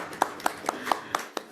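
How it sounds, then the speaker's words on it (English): Scattered hand claps in a Seattle ISKCON temple gathering, about six distinct, evenly spaced claps, fairly quiet and close, with a few more blending in between. "One more big round of applause to Sarita."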